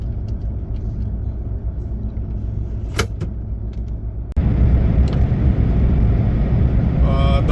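Car driving at night with all lights on, including a roof LED light bar: steady low engine and road rumble throughout, stepping up louder partway through, with a brief higher tone near the middle.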